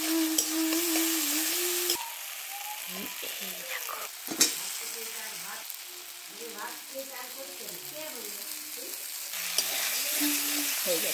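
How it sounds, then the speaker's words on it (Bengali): Onions and spices sizzle and fry in a pan for a fish curry, with steady frying hiss and occasional stirring scrapes throughout, some of it under quiet talk. "পেঁয়াজ ভাজা হয়ে গেল"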